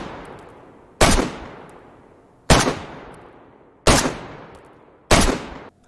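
An assault rifle without attachments in the video game DayZ fires four loud, sharp single shots, evenly spaced about a second and a quarter apart, each with a quickly fading echo tail.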